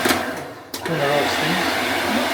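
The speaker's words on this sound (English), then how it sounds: "Hair dryer." A steady, loud whirring hum of a hotel room hair dryer in Ayia Napa runs throughout, with a brief dip near the middle and a voice speaking briefly over it.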